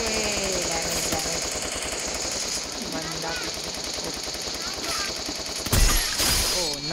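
Rapid automatic gunfire in a video game during a crate opening, a dense, regular stream of loud shots with a louder burst near the end. A voice is faintly audible underneath.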